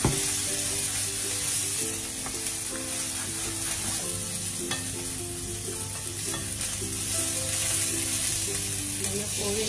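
Masala frying and sizzling in a pan for an Indian dish, browning steadily as it is stirred; a continuous close, even sizzle with a low hum underneath and no talking.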